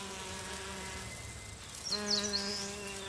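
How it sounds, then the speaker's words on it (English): Eastern honey bees drone in a forest while collecting pollen, a steady close buzzing hum whose pitch shifts and strengthens midway as bees move near. "Eastern honey bees."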